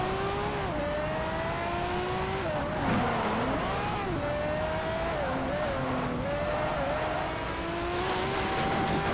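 Pagani Zonda R race car engine in Need for Speed: Shift, a loud sustained whine rising and falling through gear shifts over several laps-style passes, with tire noise beneath and no talk over it.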